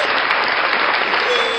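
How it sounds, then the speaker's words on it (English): A burst of steady, dense audience applause fills a short stretch, loud and close, with no talk over it. "A round of applause."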